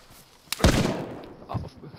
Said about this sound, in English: I got shot with a shotgun or something.